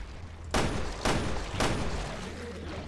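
Three sharp gunshots roughly half a second apart, loud and close over a low ambient hum, in the survival horror video game Resident Evil: Revelations 2.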